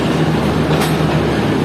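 The Shalimar Express pulls out of Lahore Junction station, a loud, close, steady rumble of rolling railway cars with a low mechanical hum and a brief hiss midway.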